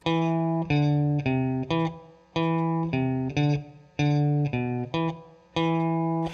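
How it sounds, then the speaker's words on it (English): Distorted electric guitars play a rhythmic line of short, repeated notes, layered in harmony with clear pauses between phrases. "a third guitar comes in and creates a harmonized line to go with the guitar 1's doubling"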